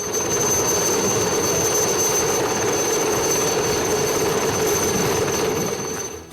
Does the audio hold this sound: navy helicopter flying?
yes